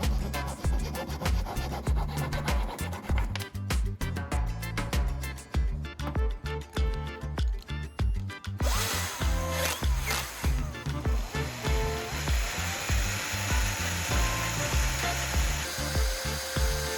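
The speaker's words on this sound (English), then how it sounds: "Next, I saw along the marked line on the wooden piece. Cutting carefully, I make sure the edges are straight and even." A hand saw cutting a small wooden piece along a marked line, fast rhythmic rasping strokes up close, then a smoother, higher scraping sound toward the end, with no talking.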